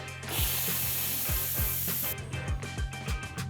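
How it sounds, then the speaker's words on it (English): A loud hiss of steam rushes out of a pressure cooker cooking beef barbacoa for about two seconds, accompanied by repeated mechanical clicks and ratcheting sounds that continue after the hiss stops. "Release the steam."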